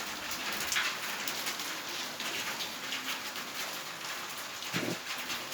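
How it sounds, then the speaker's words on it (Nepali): Steady heavy rain pours outdoors on a cold day, a dense continuous hiss of drops on surfaces with faint bird calls in the background. "पानी चाहिँ पुरा पर्दैछ।"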